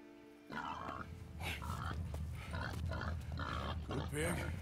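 A hog grunts and squeals repeatedly at close range in Red Dead Redemption 2, with guttural bursts coming one after another and voices mixed in.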